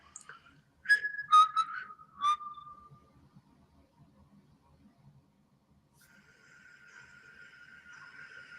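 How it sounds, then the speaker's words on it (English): A person whistles a short tune of a few sharp, clear, quick notes, then pauses, followed later by a fainter sustained tone. "I'm going to whistle a tune,"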